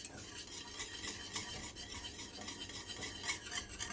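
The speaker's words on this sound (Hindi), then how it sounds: "हमको हाथ बिल्कुल भी नहीं रोकना है, ऐसे ही हम इसको चलाते रहेंगे कंटिन्यू" A spoon stirs a thickening pomegranate sweet mixture in a pan in a continuous rhythmic scraping, close and fairly quiet, with a faint sizzle and no talking.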